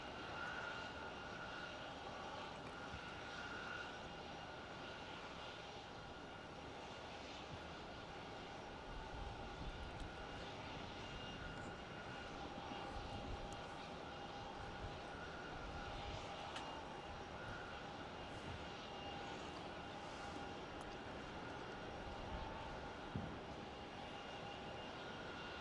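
A Velocity airliner, flight 337, at Melbourne Airport, heard as a steady, distant engine roar and whine that holds at an even, faint level throughout, with no voices.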